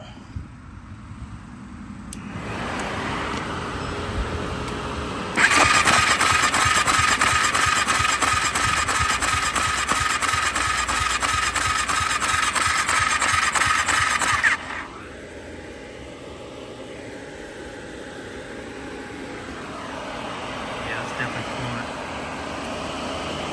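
A Yamaha YFZ 450 ATV engine cranks on the starter for a long stretch of about nine seconds, loud and close. It never catches, and a quieter mechanical hum runs before and after it.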